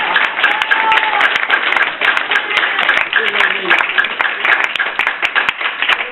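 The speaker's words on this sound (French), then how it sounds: "Tsunami d'applaudissements." Audience applause at a slam poetry evening, continuous mixed clapping from a small room crowd with people talking and calling out over it.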